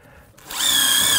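A power drill spins up while driving a screw during shed building, a brief pause then a sharp rising whine that settles into a loud, steady high-pitched motor hum.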